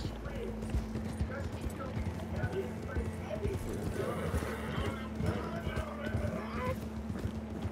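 Horse hooves pound in a rapid galloping rhythm in Red Dead Redemption 2, steady and close beneath a low engine-like drone and faint game noise, with no one speaking.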